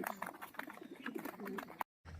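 Racing pigeons coo in transport baskets before a 20 km training toss, a steady murmur of low, soft cooing with voices and background bustle. A brief silent gap comes near the end.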